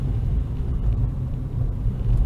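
Renault Twingo RS engine running steadily on the road with a low, continuous rumble and a slight dip as the gear changes, with no voices.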